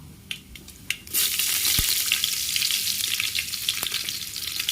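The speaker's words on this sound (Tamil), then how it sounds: "கடுகுலாம் பொரிஞ்சதுக்கப்புறம் நம்ம கருவேப்பிலை போட்டுக்கலாம்." Curry leaves drop into hot oil with popped mustard seeds, bursting into a loud crackling sizzle after a few light taps and pops, then frying steadily up close.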